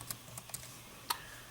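Keys on a computer keyboard are tapped while a username is entered during an Ubuntu 14.04 Linux install on a PC, producing a few faint, sparse clicks over a quiet hum.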